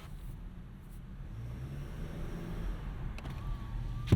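Cabin sound inside a moving 2025 Nissan Sentra S with a CVT gearbox: a steady low rumble of engine and road noise with a faint thin whine above it, continuous and even throughout.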